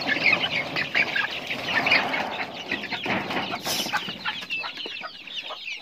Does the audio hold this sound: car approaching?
no